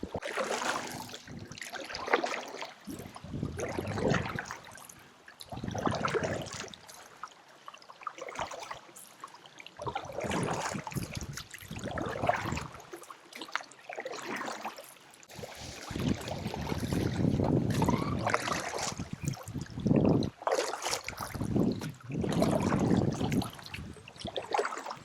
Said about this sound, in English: now the lake becomes really calm, and those little waves just pushing me forward.